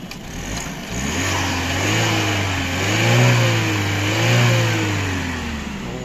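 A 2017 1.5-litre turbo car engine revved, rising and falling twice in smooth swells over a steady idle, close and loud with no talking.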